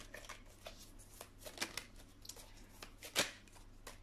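Tarot cards being shuffled for a reading, soft riffling and flicking close by and fairly quiet, with a few sharper snaps and no voice.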